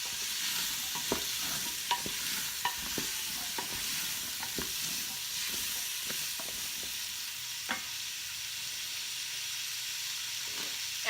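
Chopped vegetables sizzle steadily in a pot as the base for a gluten-free chicken stock, a continuous bright frying hiss with scattered pops and occasional stirring clatter, close and alone.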